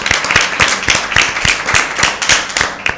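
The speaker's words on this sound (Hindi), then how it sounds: "तो मैं चाहूँगी दोनों टीम्स अपने लिए भरपूर तालियां बजाएं।" A small group claps steadily for about three seconds, brisk and close, with no talking over it.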